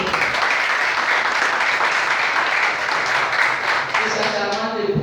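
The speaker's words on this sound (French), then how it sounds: "le colonel Kofi, que je vous demande d'applaudir" A ceremony audience claps in sustained, dense applause that carries on loudly before thinning out near the end, as a voice begins speaking over the fading claps.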